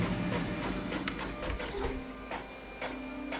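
An old printer connected through a parallel port runs a print job, its mechanism whirring and clicking in repeated pulses, loud and close with no voices.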